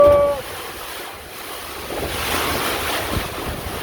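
Hurricane Idalia's gusts roar outdoors in a loud, continuous rush of wind buffeting the microphone, swelling and easing over a few seconds without any voices.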